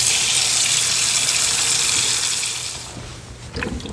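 Tap water gushes steadily into a kitchen sink while carrots are washed, a loud, close, continuous hiss that eases slightly, then picks up again with a few splashes at the end.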